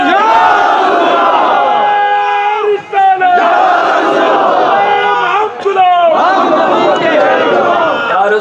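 A large crowd at a Shab-e-Qadar religious gathering in Rajouri loudly chants the slogan Ya Rasool Allah in unison, a sustained wall of voices with two brief dips where the chant breaks and restarts.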